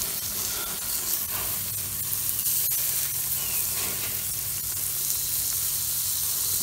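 American burger patties sizzling on a Watchman stove, one just flipped, giving a loud continuous close-up hiss and crackle of frying fat with no voices.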